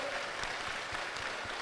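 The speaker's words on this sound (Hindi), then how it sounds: "अब जोरदार ताली बजा के इनका स्वागत करो" An audience at a Bageshwar Dham religious gathering in Gondia, Maharashtra bursts into dense, steady applause of welcome, a brief burst of many hands clapping together.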